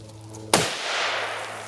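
A single sharp, loud rifle shot from a .270 Winchester firing DRT 117gr ammunition over a chronograph, a sudden crack followed by a brief decaying echo in the open air.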